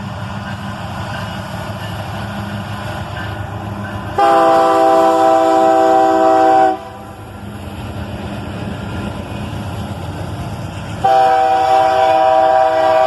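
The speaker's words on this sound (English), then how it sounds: "A Canadian National SD70 M2 and a pair of C40-8s pull this train out of the siding." A Canadian National freight led by an SD70M2 and two C40-8 locomotives pulls out of a siding, diesel rumble underneath two long, loud chords on the train horn separated by a pause.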